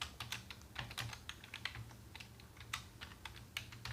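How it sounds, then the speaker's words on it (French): Rapid, uneven keystrokes on a computer keyboard while entering HTML code, a steady stream of close, crisp clicks with no talking. "je vais juste taper un petit peu de code"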